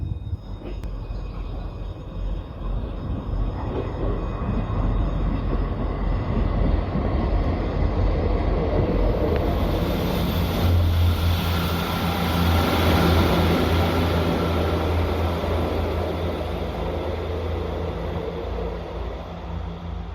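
A train rumbles steadily along with low mechanical drone and wheel noise, continuous and fairly loud throughout, with no voices.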